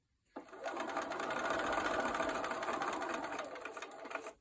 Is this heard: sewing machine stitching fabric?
yes